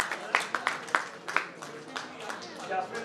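Scattered hand claps ring out in a crowd welcoming a coupon draw winner at a residential project lucky draw, a handful of sharp claps over a few seconds mixed with people talking.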